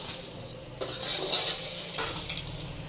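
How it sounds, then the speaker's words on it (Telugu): Food frying in ghee in a pan until light golden, a low sizzle with a few clinks and scrapes of a utensil on the pan, fairly quiet and close. "నెయ్యిలో కానీ లేదంటే ఆయిల్ ఉంటే ఆయిల్లో నేనైతే నెయ్యి వేశాను ఇలా కొంచెం ఫ్రై చేసుకుంటే టేస్ట్ బాగుంటుంది"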